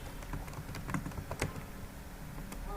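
Rapid, light clicking of keys on a computer keyboard while typing code, quiet and close, with uneven bursts of keystrokes and no talking.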